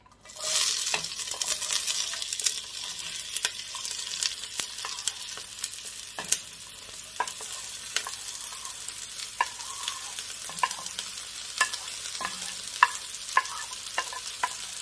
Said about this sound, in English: we're just going to put in our onions, our carrots, and our celery, and a little bit of garlic